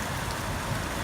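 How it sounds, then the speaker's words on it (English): Heavy rain pours outside a workshop, a dense, steady wash of drops drumming on surfaces, loud and unbroken for the whole moment with no voices. "it's raining like crazy out"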